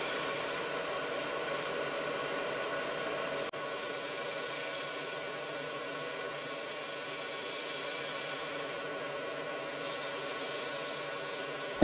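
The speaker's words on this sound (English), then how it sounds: "this scraper produces shavings similar to those of a cutting tool like a" A heavy-duty scraper with a fresh, sharp edge cuts a natural-edge crotch wooden bowl on a lathe, giving a steady continuous rasping drone over the motor hum, with no talk.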